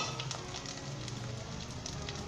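Roughly chopped onions fry in oil with ginger and garlic, a faint, even sizzling hiss with no talk over it.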